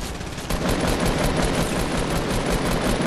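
Fortnite video game gunfire rattles in a loud, continuous burst of rapid automatic shots with no break.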